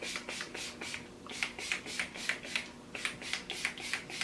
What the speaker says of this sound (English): where I put the part, I'm just kind of smoothing that into my hair